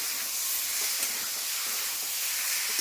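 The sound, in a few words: vegetables with boiled potatoes sizzling while being sautéed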